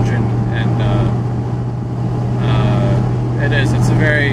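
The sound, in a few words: modified De Tomaso Pantera engine while driving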